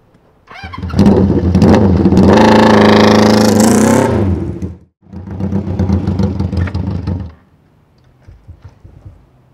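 A 1973 Honda CB350 Four motorcycle engine revs loudly and close by, climbing in two strong bursts with a brief drop between them, then settling back to a quiet idle.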